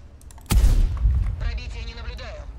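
A tank gun in World of Tanks fires once, a loud close boom with a long rumbling tail, followed by fainter rattling battle noise.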